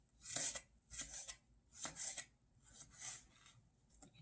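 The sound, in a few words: knife cutting grape tomatoes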